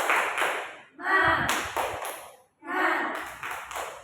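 An Indonesian classroom group claps in bursts of quick rhythmic beats, three rounds separated by short pauses, with voices chanting "semangat" along.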